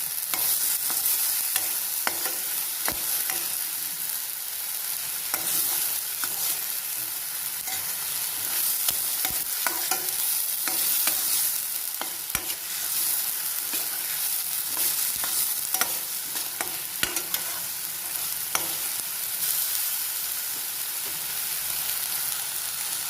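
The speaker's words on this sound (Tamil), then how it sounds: "இது பச்சை வாசம் போகிற வரைக்கும் வதக்கணும்" Masala sautéing in a pan for a spicy paneer gravy, a continuous close sizzle and hiss with repeated spoon scrapes and stirring clatter throughout, and no voices.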